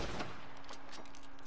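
A gunshot in Red Dead Redemption 2, a sharp crack followed by a short echoing tail, loud against a steady game background hum.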